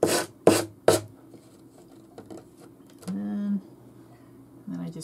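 Particle board is sanded down by hand to remove excess material, producing three short, loud rasping strokes up close. They are followed by quieter scraping and a few brief humming tones.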